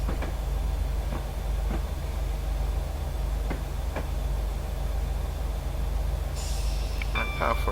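A train in Train Simulator 2016, on the Darlington to Middlesbrough mail run, rumbles steadily with periodic rail clicks, then a sharp air-brake hiss bursts out near the end as it comes to a stop.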